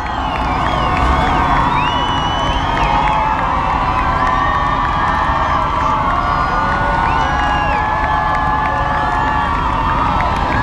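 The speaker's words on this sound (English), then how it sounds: "Listen to the applause." A large crowd at the Vatican Embassy cheers and applauds steadily for the Pope, with shouts and whoops rising above a dense wash of clapping throughout.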